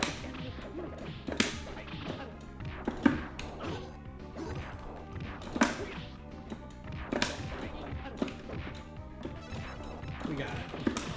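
Punches and hits land in a TMNT x Justice League fighting game, with Leonardo in an arcade run against hard AI: repeated sharp smacks and thuds in quick bursts over game music and effects.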